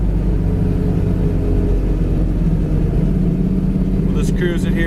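A 1967 Chevy Camaro with a small-block engine pulls hard after a kick-down from fourth to third, its loud, close rumble droning steadily from inside the cabin with a brief rattle near the end.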